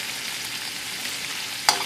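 Roast beef and onions frying in a pan for an omelet give a steady, soft sizzle with faint stirring, and one brief clink near the end.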